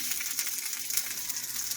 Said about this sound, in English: As long as you can hear that sizzling, that's good.